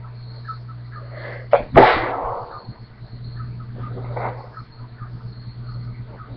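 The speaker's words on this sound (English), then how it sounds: "sneezing my guts out." One sharp, close human sneeze bursts out near the middle over a low steady hum, followed by a few faint breaths and rustles.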